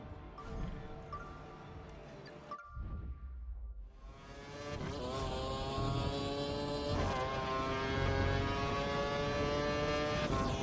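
A Formula 1 car in a racing video game heads out onto the Valencia circuit, its high-pitched engine whining and rising through the revs, briefly cutting out before climbing again, steady and fairly close.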